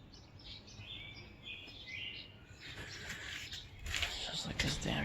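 Bird chirps held in a person's hands, bright high tweets repeating through the clip, growing louder near the end, with faint handling rustle underneath.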